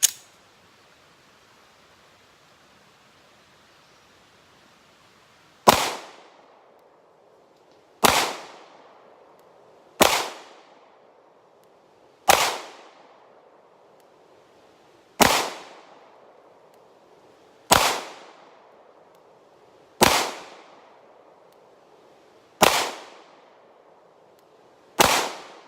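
Shots from a S&W M&P 2.0 Compact pistol at a shooting range, ten sharp loud reports spaced a couple of seconds apart after a quiet opening, each followed by a brief decaying echo.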